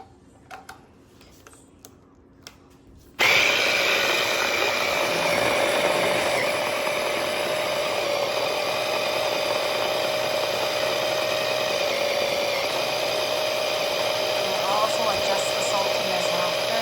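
A kitchen grinder or food processor blending cabbage kimchi ingredients with shrimp, starting abruptly after a few faint clicks and then running as a loud, steady whirring roar that holds to the end.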